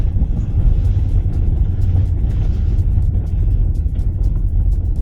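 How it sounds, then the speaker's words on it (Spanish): Peugeot Traveller 2026 van with a 180 hp engine driving over an unpaved road, a loud steady low rumble of engine and tyres with occasional sharp knocks and rattles from the rough surface. "Vamos a pasar por nuestra zona no asfaltada."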